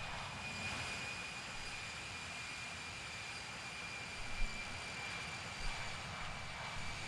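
A steady jet engine drones on a charter jet in the Infinite Flight simulator, a constant broadband roar with a faint high whine and no voices over it.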